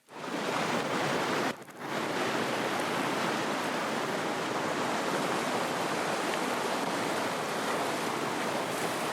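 Loud, continuous roar of river rapids in the canyon section of the Yellowknife River, a broad steady rush heard up close with one momentary dip near the start, no voices.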